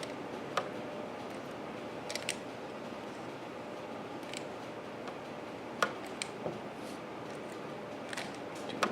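Keys clack on a Hyperion computer keyboard in a few sparse, irregular taps, close but fairly quiet over a steady background hum, with no talk.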